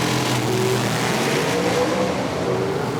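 Nitro outlaw drag racing car launching down the strip at an IHRA event in Milan, a loud sustained engine roar with constant broadband power throughout and no speech.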